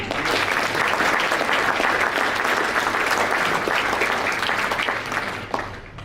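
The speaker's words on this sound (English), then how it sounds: "I think that deserves a round of applause." A sports-region audience at a football association's 50th anniversary gives a sustained round of applause, dense and steady throughout, tapering slightly near the end.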